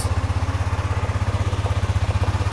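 A Honda CBR300R motorcycle engine running just after a battery replacement, a steady, loud, close rhythmic thump with no talking.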